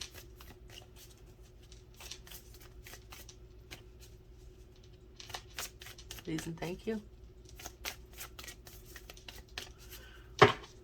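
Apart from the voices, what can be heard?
shuffling a deck of oracle cards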